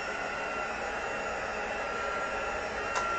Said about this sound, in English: You can even use your heat tool to move the liquids around.